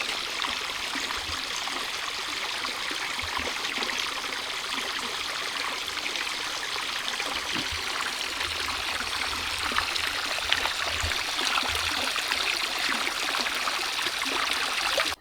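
Water pouring steadily into a Japanese garden stepping stone pond, a continuous bright rushing and trickling like a small stream or waterfall, close and even throughout with no voices.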